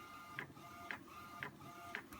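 An Epson P600 inkjet printer at work, its carriage whirring steadily with four regular clicking thumps about half a second apart, close and quiet.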